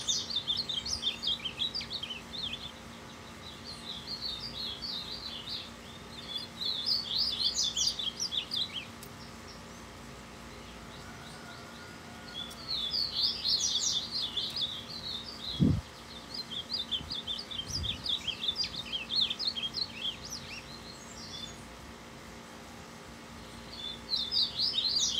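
A caged songbird sings in repeated bursts of bright, rapid chirps and trills, separated by short quiet gaps, close by and clear over a faint steady background hum, with one dull knock partway through.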